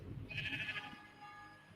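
A sheep gives one short bleat, a brief wavering nasal call that is faint and heard alone, trailing into a low quiet background.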